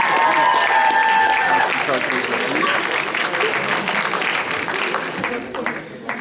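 Audience applause fills the hall at a cosplay contest prize ceremony, loud dense clapping that starts strong and slowly thins toward the end, with a voice talking over it.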